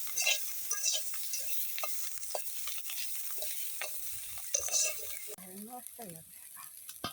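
Malabar spinach (pui) sputters and crackles in a hot pan while being stirred, with steady frying hiss and intermittent scraping, then a faint voice near the end.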